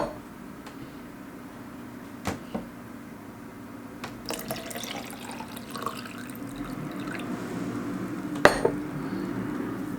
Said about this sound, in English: Next, I will pour the tea into my cup.